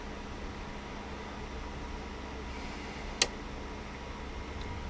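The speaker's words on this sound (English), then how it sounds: "Heard a click." An RV air conditioner at a campground power pedestal gives a single sharp click when it switches on, standing out briefly against a steady, even hum of background noise.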